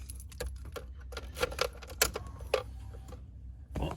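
A bunch of keys is jangled close by, giving irregular bursts of bright metallic clinks and rattles over about four seconds, with short pauses between shakes.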